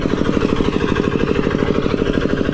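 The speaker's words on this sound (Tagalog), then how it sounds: "Pagpasensya nyo na po, may makina." Noisy boat engine running steadily at close range, a loud rapid mechanical chugging that throbs evenly throughout.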